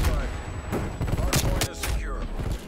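AK-47 gunfire in Call of Duty Cold War, with several sharp bursts of shots and thuds set against busy game noise, and a voice talking over them.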